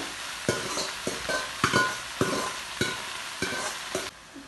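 Ginger and garlic frying in hot oil make a steady sizzle, cut by regular scraping stirs roughly every half second to second, close and clear with no talking.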